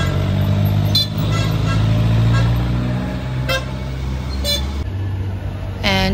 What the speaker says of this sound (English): As you all can see, there's a heavy traffic here.